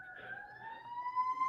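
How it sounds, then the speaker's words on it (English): A faint siren wails steadily in the distance, its pitch slowly rising, with no other sound over it. "The only siren you'll hear in North Raleigh."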